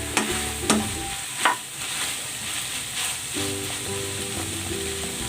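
Onion leeks are stirred into a sizzling lumpia filling made with banana heart in a frying pan, with a steady close sizzle, several sharp utensil clacks early on, and a soft background tone near the end.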